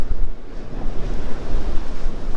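Steady rush of ocean surf breaking and washing along a beach, with wind buffeting the microphone throughout; no voices.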